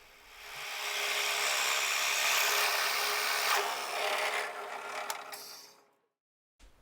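A drill bores an angled hole through a wooden holdfast block, a steady grinding whir lasting several seconds before stopping abruptly, close and alone.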